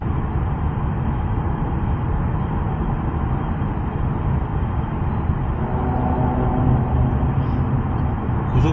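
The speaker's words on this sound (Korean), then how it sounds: "지금 100km에서는 풍절음이 뭐 조금 들립니다" Wind noise and road rumble fill the cabin of a Kia K5 2.0 gasoline car at 100 km/h on a highway with the panoramic roof cover open, a steady low, muffled whoosh that stays even throughout.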